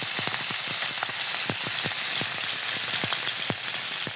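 Falsia fish pieces frying crisp in hot oil in a pan make a loud, steady hiss, with sharp spatters and pops scattered irregularly throughout, heard close with no talk.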